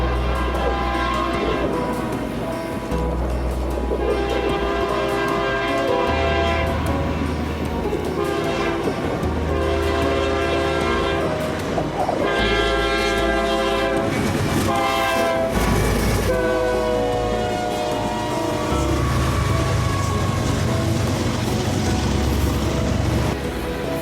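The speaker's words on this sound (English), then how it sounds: "While this train was passing" Eastbound intermodal freight train rolling past close by with a long rumbling roar, wheel clatter and several loud horn blasts sounding repeatedly throughout.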